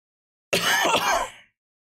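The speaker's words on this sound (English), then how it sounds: "Sorry about that cough." A single harsh, rasping cough burst, close and fairly loud, lasting about a second before silence.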